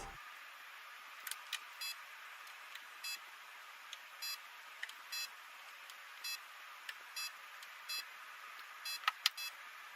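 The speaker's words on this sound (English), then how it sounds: "Every time you press a button, it beeps." Car radio in a 2002 Renault Sport Clio V6 beeping at button presses: short electronic beeps repeat at irregular intervals over a faint steady hiss, each crisp and high-pitched, with a quick cluster near the end.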